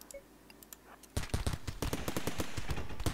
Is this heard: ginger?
no